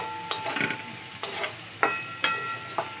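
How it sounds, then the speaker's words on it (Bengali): Cumin seeds and leaves tempering in a little hot white cooking oil, a steady soft sizzle broken by several sharp stirring scrapes of a spoon in the pan, close and moderately loud with no talking. "জিরে পাতা ফোড়ন দিয়ে দিলাম"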